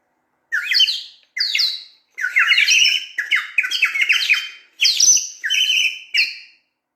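A bright, warbling whistle from a Kazakh saz syrnai clay wind instrument imitates birdsong in quick chirping bursts, about eight phrases separated by short pauses, played close and clear.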